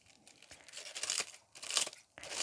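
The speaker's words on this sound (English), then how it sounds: "I'm going to go ahead and continue to cut up my comfrey that I've got here" Comfrey leaves are cut up indoors, giving soft, close tearing and crinkling sounds in irregular bursts, each under a second, with no talk.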